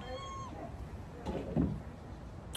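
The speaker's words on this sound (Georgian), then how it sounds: "მაგიდაზე არ იფიქრო ასვა კატა" A house cat meows briefly and faintly indoors, a short drawn-out call near the start followed by soft rustling and low household noise.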